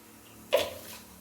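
Fennel seeds drop into hot oil in a kadai while egg curry is being cooked, giving one short, sharp burst of hissing sizzle that fades within about half a second.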